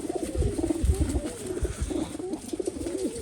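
Pigeons coo from a wire-mesh cage, a steady overlapping series of soft, throaty rolling calls close by with no talking.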